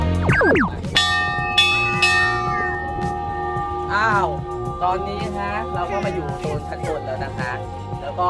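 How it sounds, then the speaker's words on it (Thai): A tower bell in Okinawa, Japan is struck a few times, each clang ringing out with long sustained tones and overlapping, while people chatter nearby. "ระฆังก็ตีแล้ว"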